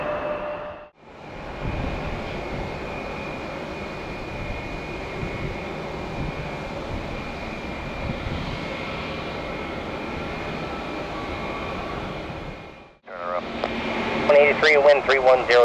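An airliner takes off at Detroit Metro Airport, a loud sustained engine roar with a steady whine that holds for about twelve seconds before cutting off, followed by radio chatter.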